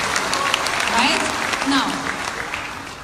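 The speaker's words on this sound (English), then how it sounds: "Give Alliance in Motion a big round of applause." Audience applause at a corporate event in Dubai, steady crowd clapping filling the room while a voice speaks over it.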